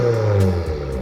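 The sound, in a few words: 2024 Subaru WRX with PLM axle-back exhaust revving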